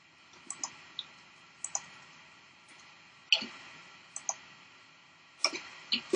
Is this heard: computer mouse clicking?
yes